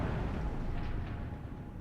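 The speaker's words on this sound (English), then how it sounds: "Those are some very nice explosions." Bomb explosions in the war strategy game WARNO rolling as a dense, heavy low rumble that stays loud and sustained, slowly easing off without distinct separate blasts.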